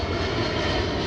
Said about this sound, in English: Sorry for the plane going right over my head.